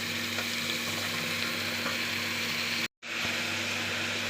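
Green and red capsicum, potato, beans and carrot sautéing together in a pan, a steady dense sizzle with a faint hum underneath, cut by a brief dropout near the end, no speech.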